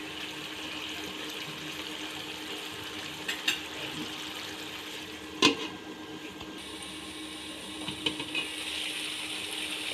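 Egg frying in a pan with cabbage and layer-hen chicken skin, a steady soft sizzle with a few sharp clicks and clinks of utensils against the pan, no talking.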